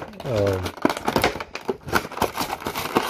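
Someone opens the taped packaging of a Halo Master Chief action figure, making close crinkling, rustling and tearing sounds in quick, irregular bursts after a brief voiced sound at the start.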